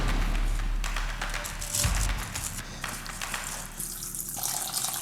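Soju poured from a glass over dongchimi, Korean white radish kimchi, giving a steady close splashing and gushing liquid sound that runs throughout and fades slightly toward the end.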